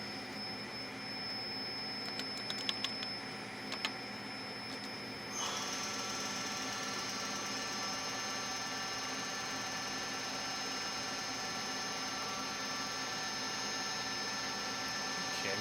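A Tree Journeyman 325 CNC milling machine spindle runs with a steady whirring drone and a faint rubbing noise. The sound is fairly quiet and continuous, and the pitch and intensity step up partway through as the spindle speeds up.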